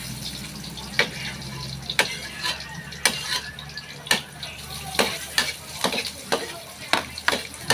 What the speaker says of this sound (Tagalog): Gigisa na naman po tayo ng ating mga sahog. Bawang at luya.